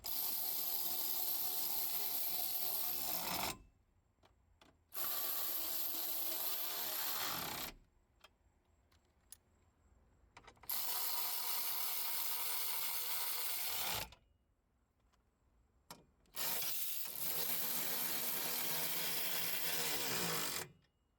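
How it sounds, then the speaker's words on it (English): A power ratchet drives bolts and nuts down on the battery rack of a 2020-2025 Cadillac XT6. It gives four long, loud whirring bursts separated by quiet pauses, with small clicks between runs. "Now that everything is in place, let's drive all the bolts and nuts down."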